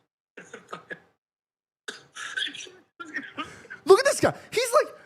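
A man coughs in short, rough bursts, with throat clearing and wheezy, strained sounds between the coughs, close and fairly loud.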